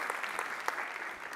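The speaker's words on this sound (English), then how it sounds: "So I want to do a quick round of applause for Antoine." An audience at a tech conference keynote claps in a steady, dense round of applause, moderately loud and continuous with no talking over it.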